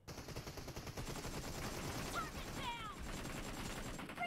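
Rapid gunfire from a shooter game rattles steadily for several seconds, a fast dense stream of shots with a few whistling ricochet-like tones over it, fairly faint overall.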